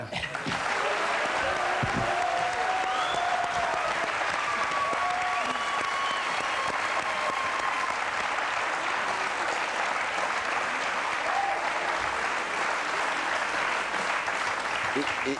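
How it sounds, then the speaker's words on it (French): Audience at a French TV awards ceremony, the 7 d'Or, applauding in a long, loud, unbroken roar of clapping that holds steady throughout, with faint voices and occasional music mixed beneath. "je vous demande d'applaudir aussi fort que s'ils venaient eux aussi de recevoir le 7 d'or"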